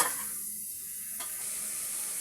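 Spiced chicken pieces and vegetables being stirred in a pot for chicken soup, a soft low sizzle with one brief utensil knock, quiet and close with no voices.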